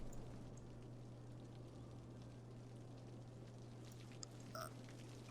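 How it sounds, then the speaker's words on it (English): Rain falling in Cities: Skylines, a steady soft hiss of rainfall over a low constant hum, with no talk. "Oh, and it's raining."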